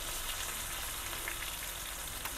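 Okra (ladies finger) pieces frying in oil for a crispy South Indian masala fry, a steady, even sizzle that stays constant and moderately quiet from start to finish, with no voices.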